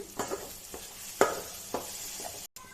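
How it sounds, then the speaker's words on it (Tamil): Ground mustard and fenugreek are stirred into hot oil for a mango pickle, with faint sizzling and a few soft spoon scrapes against the pan, quiet and close. "நம்ம அரைச்சி வச்ச கடுகு வெந்தயத்தை சேர்க்கணும் நல்லா மிக்ஸ் பண்ணிக்கோங்க"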